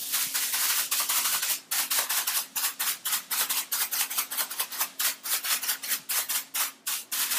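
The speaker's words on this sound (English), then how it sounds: "The foils are noisy." Decorative transfer foil being rubbed firmly onto a surface in steady repeated strokes, a dense scratchy swishing that pulses in quick rhythm close up and alone.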